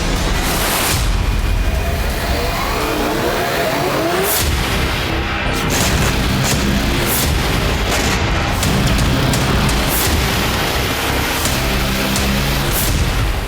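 Kamikaze drone explosions strike Ukrainian military vehicles on roads in Kursk, heard as loud repeated booms and sharp blasts over a constant heavy roar of engines and wind-like noise.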